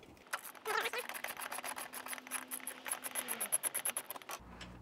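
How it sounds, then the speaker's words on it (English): Rapid, uneven pattering of raindrops drums on a nearby surface, with a faint low hum running underneath for most of the stretch. "It's raining pretty bad."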